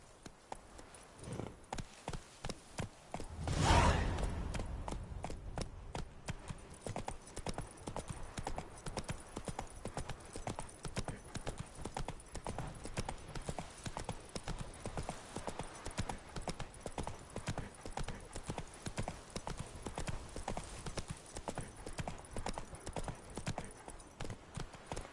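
Horse hooves galloping steadily in The Witcher 3: Wild Hunt video game, a continuous rapid clip-clop rhythm that runs the whole time, with one louder burst early on and a brief whinny.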